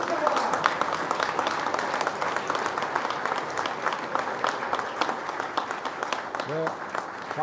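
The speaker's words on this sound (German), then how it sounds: "Der Applaus darf ruhig anhalten, auch wenn er auf die Bühne kommt." An audience at a BMW WorldSBK superbike team launch gives sustained applause as rider Michael van der Mark walks on stage, with dense steady clapping, some cheering and a voice calling out briefly near the end.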